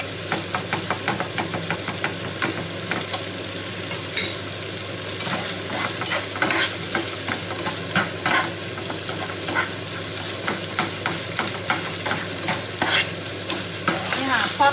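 Tofu being stirred and mashed with a spoon in a frying pan for a vegan scramble: steady sizzling underlies a rapid, rhythmic series of spoon scrapes and taps against the pan, close and continuous with no talking.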